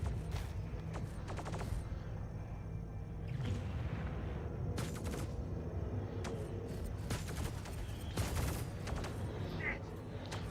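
Spaceship cannons on an Esperia Talon fighter fire in Star Citizen space combat, with repeated sharp blasts and bursts over a steady low rumble of engine and ambient game noise.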